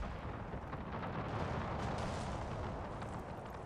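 Enemy cannon fire in Napoleon: Total War with an Era mod rumbles as a dense, continuous battlefield barrage, booming artillery blending into a steady roar with no talking.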